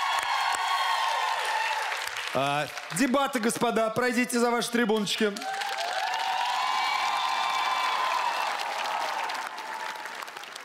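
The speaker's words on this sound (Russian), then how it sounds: "Аплодисменты." Studio audience applauds and cheers on a Russian TV improv comedy show, a dense roar of clapping with whoops that carries on behind a host's spoken words in the middle.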